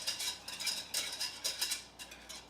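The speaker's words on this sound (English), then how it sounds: "Now take your cold butter, drop that in, remove it from heat, and whisk that in." A whisk beats cold butter into béarnaise sauce in a metal pan, giving rapid rhythmic scraping and clinking strokes that come in quick bursts, close and clear with no talking.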